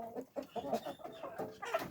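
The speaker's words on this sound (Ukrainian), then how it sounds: "Курочки їдять." Chickens, young hens and cockerels, cluck softly and repeatedly at close range while eating, short scattered calls with faint shuffling and pecking noises between them.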